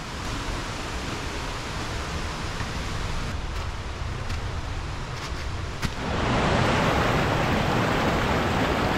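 Rushing water of a jungle river near waterfalls, a steady broadband roar that swells louder and closer in the last few seconds, with no voices.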